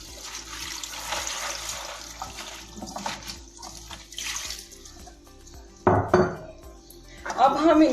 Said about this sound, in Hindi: अब इसके ऊपर हम टैप वाटर डालेंगे, अच्छे से इनको साफ कर लेंगे।